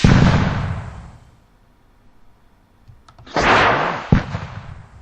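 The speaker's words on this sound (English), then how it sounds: "fire an RPG." RPG fired in a Soviet-Afghan War squad battle video game, a loud synthetic blast that fades into near silence, then a second heavy explosion with a sharp crack trailing off, with no talking.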